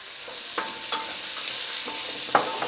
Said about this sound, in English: Then just saute until they start to soften.